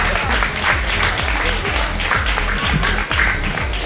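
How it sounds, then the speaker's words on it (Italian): Crowd applause for the staff at a beauty pageant event, loud continuous clapping filling the clip with music and voices faintly beneath. "io direi di fare un forte applauso allo staff di Miss Blue Mare"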